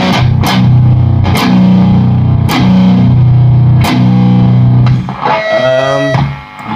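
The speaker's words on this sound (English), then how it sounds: "Let's see what the distortion sounds like on its own." An electric guitar runs through a Protone Bulb Overdrive Deluxe pedal with its distortion maxed, giving loud, heavily saturated strummed chords in a steady rhythm with sustained buzzing tails, closing on a wavering, feedback-like ringing chord.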